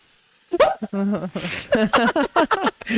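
A person imitates a dog's pained whimper, a run of short high yelps and whines close to the microphone, with brief talk and breathy noises mixed in.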